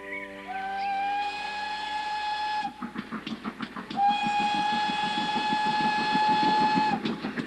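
A steam locomotive at a railway museum at Bressingham in Norfolk gives loud sustained whistle blasts, while rhythmic chuffing and rolling rail noise carry on beneath and between them.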